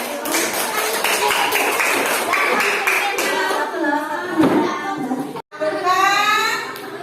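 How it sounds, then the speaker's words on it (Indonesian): Students in a school classroom clap together during a teaching practice lesson, a dense burst of many small hands lasting several seconds, with children's voices and chatter mixed in throughout. "Kita kasih tepuk tangan."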